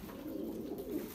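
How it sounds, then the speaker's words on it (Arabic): Pigeons coo in a low, steady murmur at close range, a continuous soft warble with no break and no talking over it. "طيور مرتبه وحلوه"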